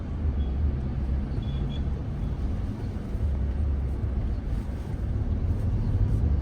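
Steady roar of highway traffic beside a long queue of trucks on the Thane to Mankoli highway, a continuous low rumble of engines and tyres heard from a moving vehicle, with no talking.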